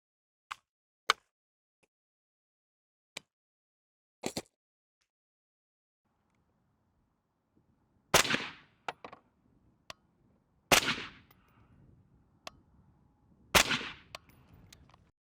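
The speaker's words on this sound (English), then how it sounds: "3 shots against the bag." Three rifle shots fired from a bag rest at a 50-yard outdoor range during zero confirmation, sharp loud cracks spaced a couple of seconds apart, preceded by scattered faint clicks and handling knocks.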